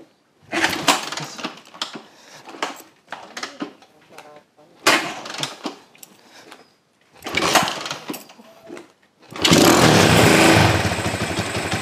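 A Honda Tiger motorcycle engine with a carburetor and high compression, hard to start when cold, gives several short sputtering bursts separated by gaps, then catches and runs loud and steady up close.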